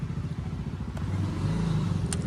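A motorcycle engine runs close by, idling and then revving up with a rising throb, with a couple of brief clicks and no talk.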